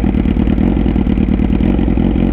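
Suzuki SRAD motorcycle engine running rough on adulterated gasoline, a loud close, rapid uneven chugging with an oscillating beat that sounds almost like a two-stroke, alone without speech.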